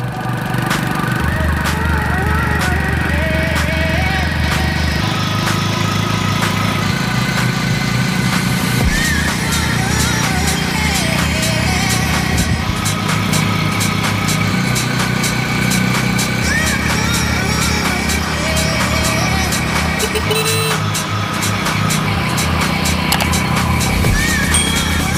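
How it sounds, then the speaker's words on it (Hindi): Steady engine drone of a motorcycle on the move on the way to a village Dussehra fair, loud and continuous, with wind and road rumble throughout and shifting engine pitch. "चलते हैं बाइक से।"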